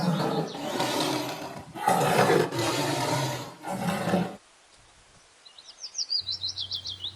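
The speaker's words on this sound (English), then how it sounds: "T for tiger." A tiger roars in several loud, rough bursts close up over about four seconds, followed by quieter bird chirps and twittering.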